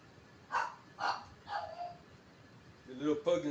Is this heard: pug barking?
yes